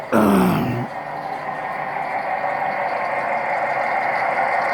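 A low, steady diesel engine rumble from model railway locomotives idles continuously at moderate volume after a brief louder start, with no talking.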